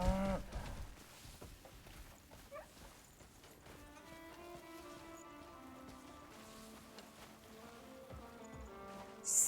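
A cow in a video game lets out a loud moo at the start and another at the end, with soft rain and sustained tonal background sounds between the calls.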